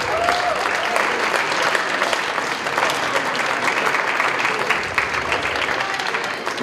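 Crowd applause fills a gym at a Hornell vs. Cuba Rushford boys varsity high school basketball game, with dense, steady clapping and cheering sustained at close range from start to finish.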